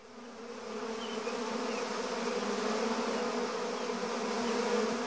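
Bees buzz around a stash of stolen sugar in an animated cartoon, a steady, dense drone that swells slightly and carries on alone without any speech.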